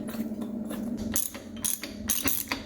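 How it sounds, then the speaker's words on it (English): A hand ratchet runs a bolt tight on the timing cover damper of a 360 Magnum engine in a 1973 Dodge Dart, with quick close clicking strokes in short bursts. "We'll just run our bolt in to pull it tight."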